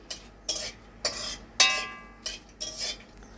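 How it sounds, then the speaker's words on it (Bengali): Cumin seeds and whole spices dropped into a pan and stirred, heard as six or seven separate clinking scrapes of a utensil against the metal pan at an even pace, close by, with no talking. "এবার জিরে দিয়ে দেওয়া হচ্ছে"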